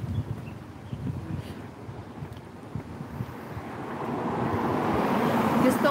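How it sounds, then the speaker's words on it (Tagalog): Sea waves near a seaside cemetery wash in as a steady, broad surf roar with wind noise on the microphone, swelling slightly louder toward the end, with no talking. "Malapit sa dagat."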